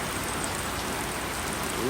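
Steady broadband rain hiss fills the whole stretch, even and continuous, like a downpour on nearby surfaces with no other sounds on top.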